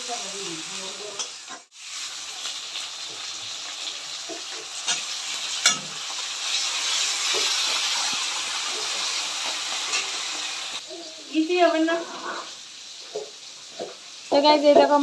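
Onion frying in hot oil with cinnamon, cardamom, cloves and cumin, a steady close sizzle and hiss with occasional stirring scrapes, while someone talks over it and other voices join near the end.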